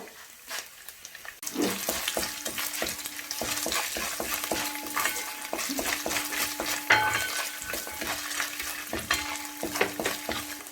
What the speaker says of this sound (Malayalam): എണ്ണയിലേക്ക് നമ്മൾ 2 തണ്ട് കറിവേപ്പില ഇട്ട് കൊടുക്കുന്നു.